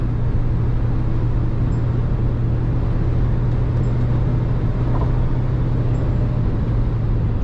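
A Mahindra Scorpio-N SUV cruises on the road in high gear, a steady low engine drone mixed with tyre and road rumble, constant and unbroken throughout with no talking.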